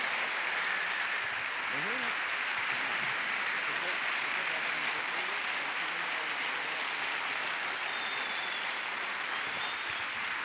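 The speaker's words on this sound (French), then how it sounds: "Allez, je crois qu'on peut les applaudir très fort" Broad, steady applause fills a large hall at a university diploma ceremony, a continuous wash of clapping with faint voices mixed in underneath throughout.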